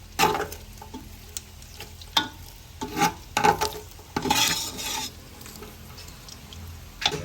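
Chicharon frying in its own rendered fat in a pan: irregular sizzling and crackling pops with occasional stirring clatter, moderately close, with no talking.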